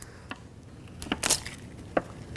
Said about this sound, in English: And then I'm gonna crack 1 or 2 eggs.